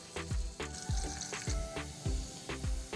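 Onions sizzle in hot ghee in a pot on the stove, a loud steady frying hiss with rhythmic spoon-stirring clanks repeating about every half second, close and unbroken.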